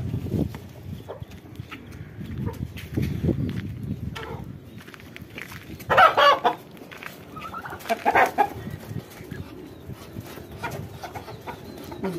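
Hens and a rooster on a rooftop coop give scattered clucks and a few sharper squawks, near and fairly loud, with someone speaking intermittently between them.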